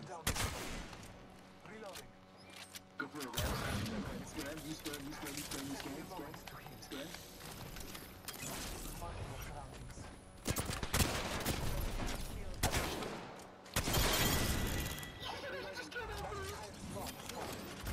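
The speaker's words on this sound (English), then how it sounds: "I like the shotgun." Shotgun fire in the video game Apex Legends, loud booming blasts mixed with other gunfire and battle noise in a dense, continuous firefight, with a player talking over it.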